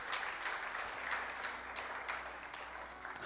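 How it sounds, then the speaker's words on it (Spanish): Church congregation applauding, a dense, steady wash of clapping at moderate distance, sustained throughout without voices standing out. "Dele un aplauso al Señor si usted cree en los propósitos de Dios."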